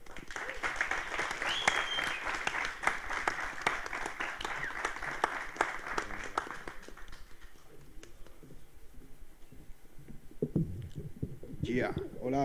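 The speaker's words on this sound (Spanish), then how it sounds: "quiero que recibamos con un fuerte aplauso" Audience applause and cheering welcoming a rapper on stage at a live concert in a Santiago music hall, sustained crowd clapping that fades out, followed by the performer starting to talk.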